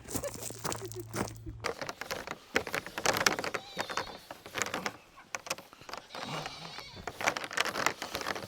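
Goats penned up on a farm bleat in short, scattered calls at close to moderate distance, mixed with crunching and rustling noises and occasional faint voices.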